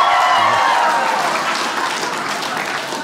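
Audience applause at a comedy club, a dense wash of clapping that starts loud and fades slightly over about three seconds, with no voices on top.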